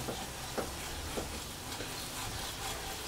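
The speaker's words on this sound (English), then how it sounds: "stirring the flour and the butter. I'm scraping the pan at the same time" Flour and butter are stirred in a hot pan for turkey pan gravy while the pan is scraped, giving a quiet, steady sizzle with a few soft scraping strokes, close by and faint, with no voices.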